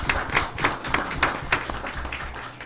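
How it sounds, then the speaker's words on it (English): Applause at an Irondale city council meeting: a small group claps in a steady rhythm of sharp, evenly spaced hand strikes at moderate volume, with no talking over it. "And I applaud you."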